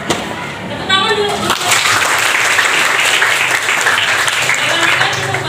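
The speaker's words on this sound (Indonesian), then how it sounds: "Tepuk tangan dulu." Students in a vocational school accounting class clap together for a classmate, a loud, dense burst of applause that starts after a moment of talk and holds steady to the end.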